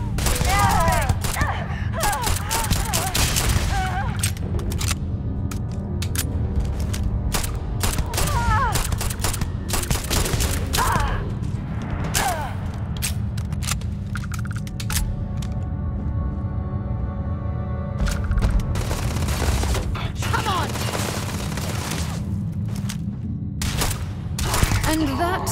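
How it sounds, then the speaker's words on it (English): Gunfire in the Starfield video game, a dense stream of rapid shots and bursts running nonstop through a battle with booms and occasional grunts, loud and close throughout. "So who are they shooting at and why?"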